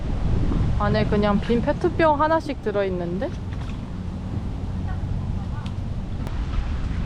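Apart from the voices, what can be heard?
wind blowing outdoors on a lake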